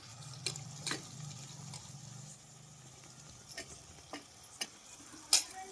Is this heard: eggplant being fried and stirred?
yes